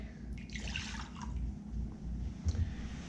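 Mirin, then sake, pours into a pan for a GyuDemi sauce with shoyu, making a brief, soft liquid splash and trickle, close and fairly quiet.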